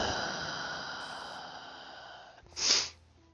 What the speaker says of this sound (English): sorry for the sniffles